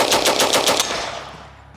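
An M3A1 Grease Gun fires a short burst of .45 ACP, about six loud, rapid shots in under a second, followed by a fading echo.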